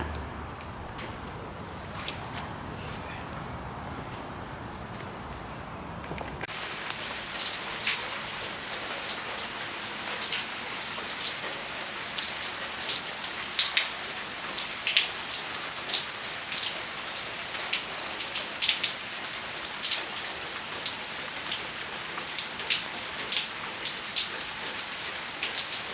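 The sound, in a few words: rain falling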